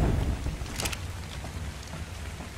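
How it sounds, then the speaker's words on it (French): Rain hisses steadily in ARK Survival Evolved, a dense, even wash of falling drops with a low rumble beneath and a brief brighter burst early on, alone without talk. "Et encore de la pluie."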